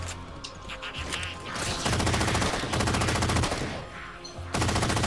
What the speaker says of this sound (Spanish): ¿Cómo no se mueren de un buen de balazos del APP?